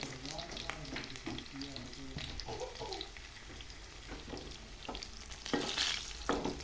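Cumin seeds frying in hot oil for a tadka to pour into moong dal, giving a steady close sizzle and crackle with occasional stirring scrapes that grow louder toward the end.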